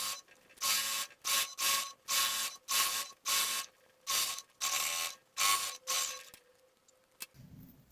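A sewing machine stitches elastic into a sweatshirt-fleece waistband in short mechanical bursts, about a dozen runs separated by brief pauses, close and clear with no talking.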